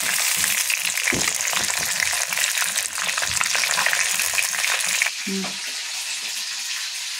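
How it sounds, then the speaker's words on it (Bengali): Barbecue meat frying in a pan, a loud close sizzle with stirring clatters, then dropping quieter near the end as the heat eases, with a brief voice cutting in. "সেটা দিচ্ছি আবার নতুন করে ভাজতেছি।"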